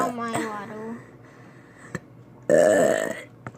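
A child burps loudly after drinking water, one long croaky belch in the second half, with children's voices heard talking earlier.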